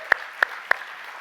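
Three crisp, evenly spaced hand claps ring out at a weekend church worship service, each sharp and close, with quiet room tone between them.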